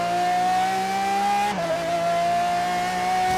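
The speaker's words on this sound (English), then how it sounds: "just listen to that V12" A V12 engine in the racing game Forza Horizon 3 gives a sustained, high-pitched wail that holds a steady note, dips briefly at a gear change, then carries on loud and smooth with no talking.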